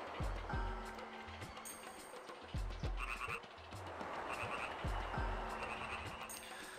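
Frogs croak repeatedly in the Grandia video game, rhythmic low throaty croaks arriving in clustered bursts every couple of seconds over an ambient game background, loud and close.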